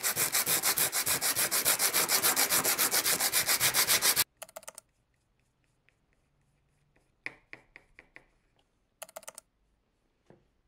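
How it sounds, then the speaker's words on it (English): A sanding block rubs briskly back and forth over gesso in fast, even strokes for several seconds, followed by quiet with a few scattered scrapes and taps. "I'm just coming in with a little sanding block and I'm going to sand that smooth"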